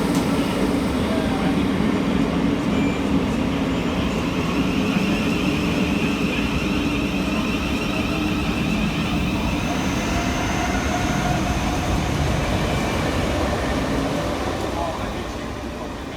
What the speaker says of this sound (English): We see the arrival of 707018 and 707029 with the 1734 Southeastern service from Hayes through to London Charing Cross.